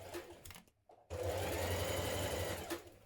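A sewing machine runs a long, steady stitch along a 1.5 cm seam allowance on a Simplicity 9281 children's dress. After a brief start and pause, it hums loudly and continuously with no talk.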